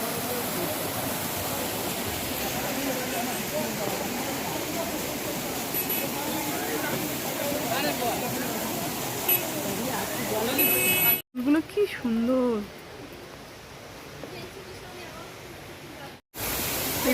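Water rushing over rocks at Rock Garden in Darjeeling, a loud, steady broadband roar that fills the scene, briefly cut off near the end while a voice speaks.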